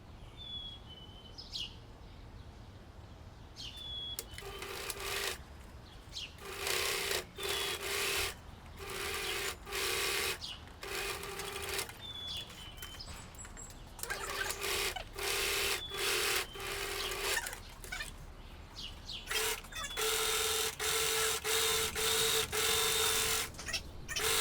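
A sewing machine stitches along the edges of fabric pant legs in close, loud bursts of rapid mechanical whirring, stopping and restarting repeatedly with short pauses between runs.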